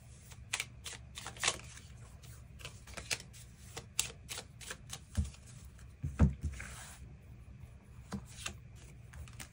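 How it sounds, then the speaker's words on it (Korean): Tarot cards shuffled and drawn by hand, with quick crisp flicks and soft rubbing riffles in irregular bursts, close but quiet, with faint low thumps from handling and no talking. "카드 뽑아보도록 하겠습니다."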